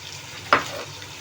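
Chicken frying on a high flame with masala paste makes a soft, close sizzle. It is broken once by a single sharp crackle or spatula knock.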